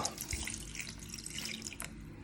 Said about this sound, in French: On ajoute de l'eau à hauteur.